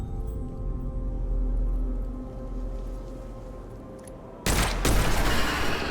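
Gunfire in the game Witchfire, with headshots on enemies. A low rumble builds toward one sharp, loud blast near the end, followed by a dense burst of shots with no voices.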